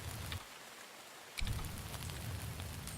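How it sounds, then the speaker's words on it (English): Steady rain falls in the Jaws of Extinction video game, a constant hiss that briefly thins and then returns fuller with a low rumble. "It's dark and it's rainy."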